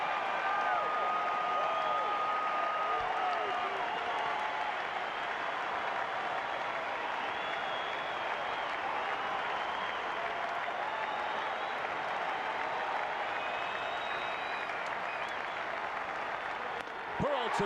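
Fenway Park baseball crowd on its feet applauding and cheering during a late strikeout moment, a dense, sustained roar of clapping and voices holding steady throughout.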